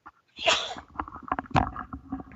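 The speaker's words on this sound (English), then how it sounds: "I'm going to sneeze." A single sharp sneeze bursts out at close range, followed by some shuffling and rustling noises.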